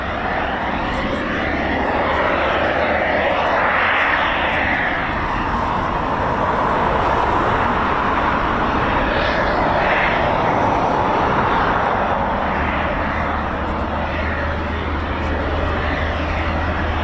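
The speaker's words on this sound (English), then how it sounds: "We do have a Typhoon that's taxied out as well for departure." A Eurofighter Typhoon FGR4 jet taxis out for departure at RAF Coningsby, a loud continuous engine roar and whine that holds steady and close throughout.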